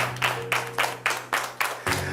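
Rhythmic applause for a university team at the Accountancy Challenge Nigeria TV game show, clapped in about eight evenly spaced unified beats over a steady background hum.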